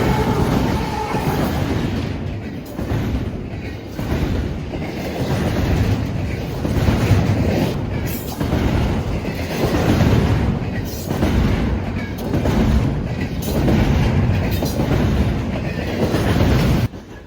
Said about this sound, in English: I caught an eastbound intermodal at a diamond.